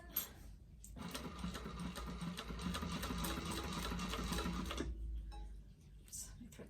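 A sewing machine stitches a bag in a fast steady buzzing run of about four seconds, close and clear, stopping briefly before and after; someone speaks quietly around it.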